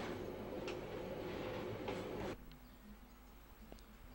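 Train rumbling at a station on the Wellington–Masterton line in New Zealand, a steady loud roar that drops abruptly to a quieter idle hum with faint clicks and a low tone.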